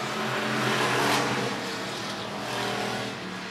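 Hobby stock race cars roar around the I-76 Speedway oval, a dense, continuous engine drone with several cars at once, loud and steady with a slight swell as the pack passes.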